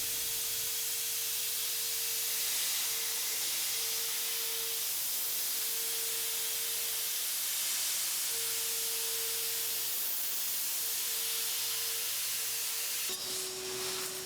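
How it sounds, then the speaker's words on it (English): A CNC machine bit cuts knife steel without lubricant, giving a steady hiss with a sustained whining tone and a shift in pitch near the end, with no talking. "Normally there's a lot of lubricant being sprayed onto the bit to keep it cool"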